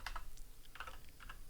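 Code is typed on a computer keyboard in a quick, irregular burst of faint, close clicking keystrokes.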